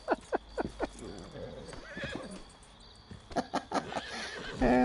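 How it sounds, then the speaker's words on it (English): A horse in a video game neighs loudly and its hooves clip-clop in a few quick bursts, with game ambience and some distant movement between them. "Trouble with your horse there,"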